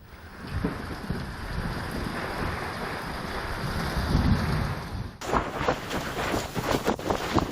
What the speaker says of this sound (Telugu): ఈదురుగాలులు, మెరుపులతో కూడిన వర్షంతో ఒక్కసారిగా మారిన వాతావరణం.